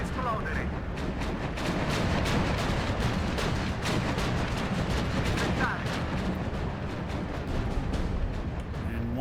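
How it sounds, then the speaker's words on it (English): Anti-aircraft fire in the war game Steel Division 2, with an IL-2 aircraft flying into it: dense, rapid crackling gunfire bursts over a continuous rumble of battle, with talk in the background. "IL-2 just trying to run right into AA fire."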